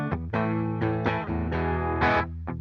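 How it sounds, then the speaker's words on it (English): Electric guitar played clean straight through a Fender Deluxe Reverb amp, a short run of sustained, ringing notes and chords with no voices over it. "this is a clean signal straight through a Fender Deluxe Reverb"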